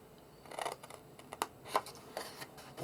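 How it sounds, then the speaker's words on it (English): Hand-held scissors cut paper labels along a tight line, giving several quiet, crisp snips spaced irregularly and heard close up against a faint background. "I'm just going to use these scissors because I find they're easier for getting in where it's a"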